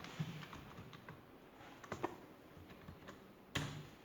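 Keys tapped on a computer keyboard while typing in a word processor, a quiet, irregular run of light clicks with a louder clack near the end, no talk over it.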